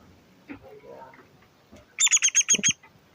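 Kakariki parakeet chicks chirp in a quick burst of about six bright, rapid peeps close by, after a few faint scattered squeaks.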